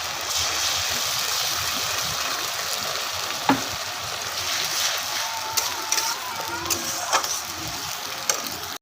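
Ginger garlic paste frying in a pan for egg curry: a steady, close sizzle with a few sharp clicks and scrapes from stirring.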